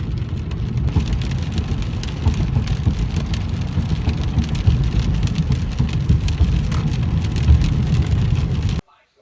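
Steady rain pouring down on a stormy night, a dense rushing patter with low rumbling underneath, continuous until it cuts off abruptly near the end.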